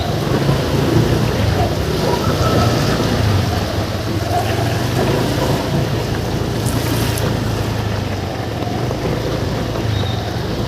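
Steady heavy rain pours down across an elevated road construction site with steel girders, a dense continuous wash of noise that stays loud and even throughout, with no voices.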